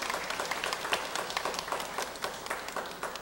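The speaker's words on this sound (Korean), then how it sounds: "우리 박수로 우리 환영하도록 하겠습니다." A church congregation claps steadily to welcome newcomers during a Sunday service, an even, continuous roomful of hands with no voices over it.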